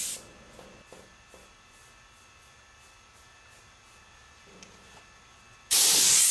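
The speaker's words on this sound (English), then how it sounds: "And here I'm blowing it off with an air hose." Compressed air from a hose blows steel wool dust off an aluminum surface being prepared for a bronze finish, a loud steady hiss bursting in near the end after a quiet stretch.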